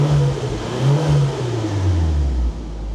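A 1994 Nissan Silvia S14 with an SR20DET turbo engine revs up close, rising and swelling in two pushes of throttle before dropping back to a steady idle, loud and without speech.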